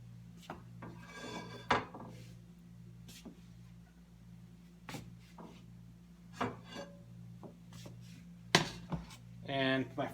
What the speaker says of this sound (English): And my frying pan back on the heat.